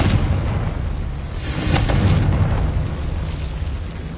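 A Confringo spell explodes in the Hogwarts Legacy video game, a loud, sustained booming blast with a rumbling low end that swells around the middle and stays dense throughout, with no voices.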